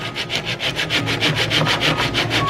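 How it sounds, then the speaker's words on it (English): Wood being cut with a power tool as part of extending a door opening: close, rhythmic rasping strokes repeating at a quick, steady pace, loud and raspy throughout. "I need my power tool."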